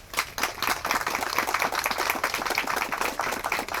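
An audience at an outdoor community walk against domestic violence claps steadily for the program partners, a dense, sustained round of applause with no voices on top.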